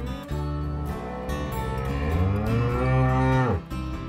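Several cows moo loudly and close by, long low bellowing calls overlapping one another with no talking.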